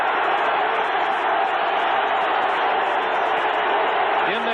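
Stadium crowd noise at an NFL football game between the Bears and Packers, a dense, roaring wall of fans that stays loud and steady throughout, heard from a distance with no clear voices standing out.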